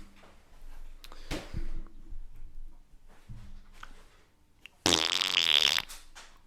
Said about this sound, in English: Nice fart sounds.